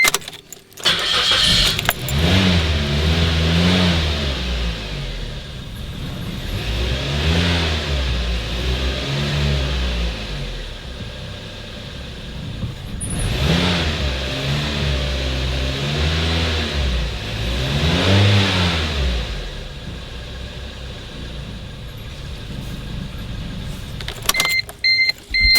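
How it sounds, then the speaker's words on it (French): An Opel car engine with a coolant fault revs in repeated surges and sags, unable to hold a steady idle, loud and close with rising and falling engine tone throughout. "pourquoi le moteur ne tient pas le ralenti"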